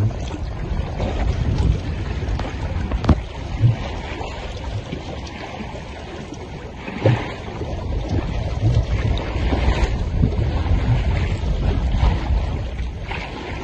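A sailboat moves along the coast of the Indonesian islands in very light breeze of about 4 knots, with steady water wash and wind noise on the microphone throughout, a few soft knocks rising above the constant broadband hiss.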